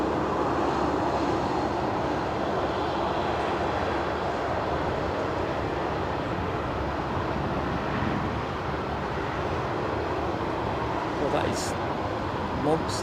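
A United Boeing 787 Dreamliner comes in to land, a steady broadband jet roar that holds at an even level throughout, with no clear peak or fade.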